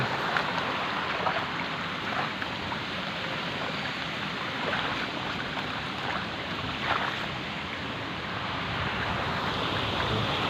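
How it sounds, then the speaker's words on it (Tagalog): Floodwater rushes steadily through a flooded street during the rainy season, a continuous broad, loud watery roar much like a fast stream, with wind buffeting the microphone and no voices. "Baha na naman mga idol."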